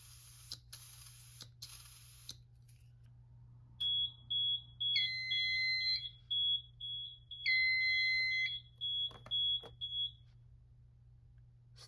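A Notifier AFC-600 fire alarm panel with a smoke detector in alarm gives a supervisory signal, a repeating electronic beep in regular short bursts after a few sharp clicks, close and clear over a low steady hum.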